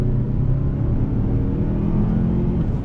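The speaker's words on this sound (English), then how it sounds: "I'm actually glad that they went with the turbocharged inline 4." A Mazda SUV's turbocharged inline-4 engine, from a 2019 CX-5 Signature or CX-9 Touring, pulls under throttle with a steady low rumble and whir throughout, heard from inside the cabin with no talking.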